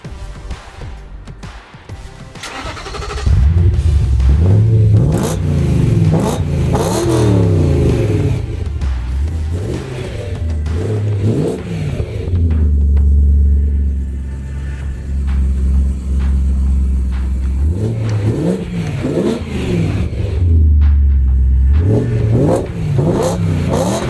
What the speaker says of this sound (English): let's see how this thing sounds with the new exhaust